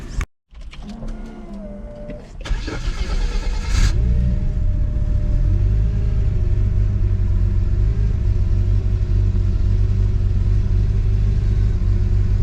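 Car with a turbo Ecotec V6 engine starting up, then a loud steady idle and rumble heard up close, with a brief whir like a power window near the start and no talking.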